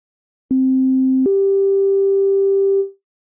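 Pure sine oscillator tone from a Cherry Audio Sines software synthesizer, a steady low pitch that steps up once to a higher sustained note, clean and loud, then fades out, with no voices.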